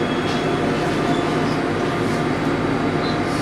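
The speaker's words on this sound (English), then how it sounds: "This train terminates at Stratford." A London Underground Jubilee line train heading for Stratford gives a steady, loud rumbling roar with no break, the sound of riding inside a moving carriage.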